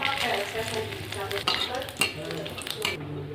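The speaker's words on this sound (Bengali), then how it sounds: "তেলের উপর দিয়ে দেবো গোটা জিরে আর তেজপাতা।" Whole cumin and bay leaf sizzle in hot oil, a loud steady frying hiss up close with a few clinks of a utensil against the pan near the middle.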